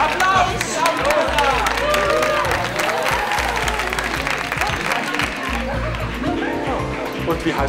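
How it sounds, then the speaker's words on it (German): Audience applause in a TV studio game show as winners come forward, continuous crowd clapping throughout with a host's voice and cheering over it. "Applaus! Applaus!"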